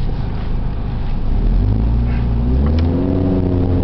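A manual 2000 Audi TT Quattro with an all-wheel-drive inline-four engine pulls away and accelerates, its engine note rising steadily and loud throughout with no voices over it.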